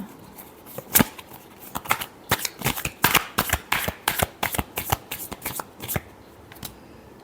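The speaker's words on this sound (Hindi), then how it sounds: "last shuffle" Tarot cards being shuffled by hand, heard as a close series of crisp, irregular riffling and slapping bursts that come in quick clusters with short gaps between them.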